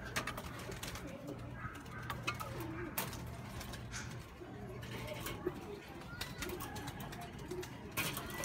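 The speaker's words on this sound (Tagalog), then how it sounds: "Yan sila mga kaibon" Pigeons coo steadily at a loft, their low repeated murmurs forming a continuous bed with faint scrapes and clatter, and no speech over them.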